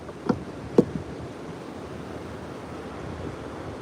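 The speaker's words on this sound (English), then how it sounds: "I can already tell a difference in the sound of the water." River water running steadily while the river is being raised, a broad constant wash with wind buffeting the microphone and two brief knocks near the start, heard outdoors with no talking.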